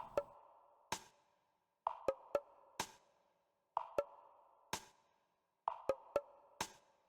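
Soft, sparse UK garage-style electronic percussion: light clicks and muted thumps in a loose repeating pattern over a faint low tone, quiet and without voices.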